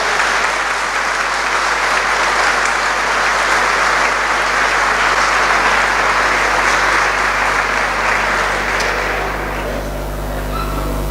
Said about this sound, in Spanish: Un aplauso, recibámoslo como parte de aplauso.